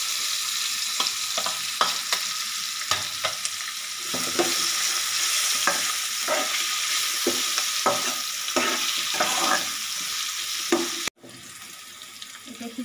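Onions and dried chillies frying in a pan for aloo poha, a continuous bright sizzle with irregular scraping strokes of a spatula, close and steady, dropping suddenly near the end.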